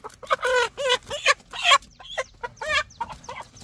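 Chickens on a Vietnamese farm cluck and squawk near and loud in a rapid series of sharp bursts, with one hen's call standing out, alone with no talk.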